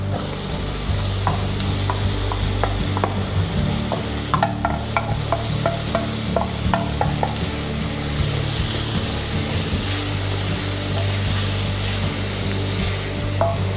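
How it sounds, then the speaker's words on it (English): Browned onions and lamb sizzle steadily in a frying pan, a dense continuous hiss with scattered pops and crackles and occasional stirring scrapes, close and loud throughout, no talking. "The onion is turning nice and brown. I'm gonna drop in the rest."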